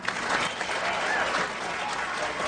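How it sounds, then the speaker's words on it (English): An audience claps in a dense, steady burst of applause that fills the whole moment, close and bright, with no voices standing out. "A big round of applause for Whisper Hug."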